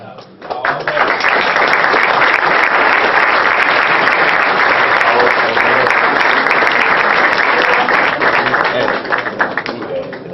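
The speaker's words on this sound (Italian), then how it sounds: "grazie ancora della spontaneità dell'applauso che mi avete fatto" An audience applauds loudly and continuously at an end-of-year tournament. The clapping starts abruptly and holds a dense, steady roar before easing slightly at the end.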